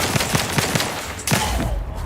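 Video game gunfire in The Outer Worlds 2, a quick burst of about five evenly spaced shots, a short pause, then a louder blast that fades into rumble.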